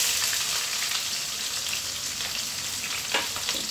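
Chopped onion sizzles loudly in oil alongside whole spices such as black pepper, cinnamon and bay leaf, a steady close crackle with occasional stirring knocks and no voices.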